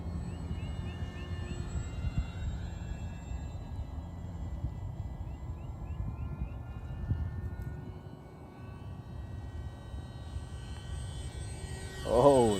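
A Top RC Swift v2 64mm EDF glider making a low pass over a runway at partial throttle, giving a steady ducted-fan hum at moderate distance that swells louder right at the end.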